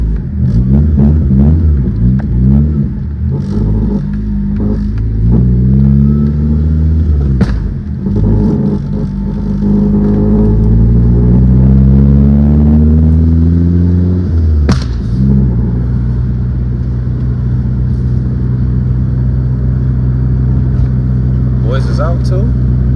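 A 1997 JDM Honda Accord wagon's engine while driving, a loud close rumbling drone that rises and falls in pitch through gear changes, with someone talking intermittently over it.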